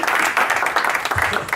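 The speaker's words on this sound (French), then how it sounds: "Applaudissez quand même pour nous." A crowd claps and applauds steadily, a dense, even patter of many hands close by, lasting about a second and a half.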